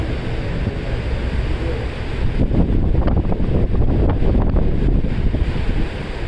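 Strong wind buffets the microphone on an Amazon river cruise ship in heavy rough weather, with a steady loud roar of gusts and crashing water, near and continuous, no speech.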